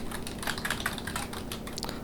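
C code being typed on a computer keyboard, a quick, steady run of light clicking keystrokes close to the microphone, with no talking.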